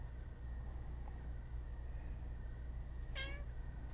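A cat gives a single clear meow over a steady low room hum, with a fainter short sound earlier; no one speaks.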